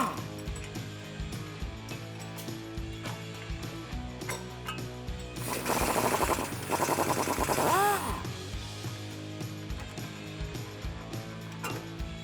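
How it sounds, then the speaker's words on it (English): A ratchet and wrench work on truck shock absorber bolts, with an 18mm wrench and 15mm socket, making repeated clicking ratchet strokes and metallic clanks, with a louder rapid ratcheting burst in the middle. "you're gonna have to get the shocks unbolted, and for that you'll need a 18mm wrench and a 15mm socket"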